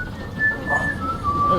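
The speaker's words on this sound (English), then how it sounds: "That whistling is really annoying." Thin, steady whistling tone in a Game of Thrones video game, holding a near-constant pitch that dips slightly near the end, running throughout beneath quiet game ambience and low background murmur.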